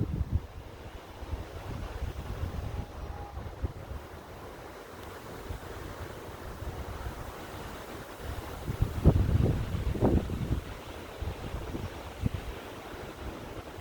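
Wind from a massive tornado roars steadily outdoors, a broad rushing buffet with heavy gusts and rumbling surges toward the middle, and no talk.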